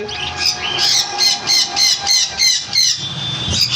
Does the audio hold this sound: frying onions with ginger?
no